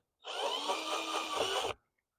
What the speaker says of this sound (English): I'm going to loosen up some of the clips that I can.